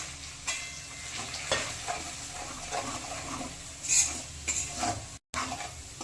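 Cumin, coriander, chili and turmeric powder go into a hot pan of frying filling for singara, with steady sizzling, scraping stirs and a few sharp clinks of a spoon against the pan.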